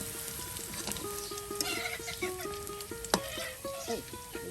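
Onions frying in oil in a village kitchen, a continuous crackling sizzle with stirring scrapes and a sharp clack, while a high, wavering tone keeps recurring in the background.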